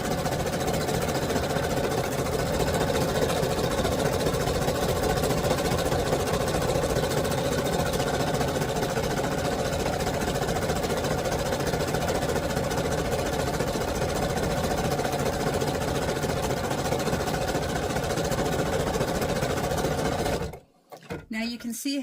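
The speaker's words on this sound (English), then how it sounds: "loaded in the machine, and now I'm going to start the embroidery." A Husqvarna Viking Ruby Royal embroidery machine stitching a design in a magnetic hoop, a steady rapid mechanical whirr and tapping running continuously, then cutting off abruptly near the end.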